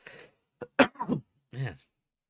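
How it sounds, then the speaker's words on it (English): A man coughs and clears his throat in a few short, harsh bursts up close, with brief pauses between them, then one final rougher hack. "can't get this cough to go away."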